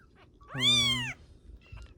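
A young stray kitten lets out a single loud, drawn-out meow close by, rising then falling, followed by quiet background.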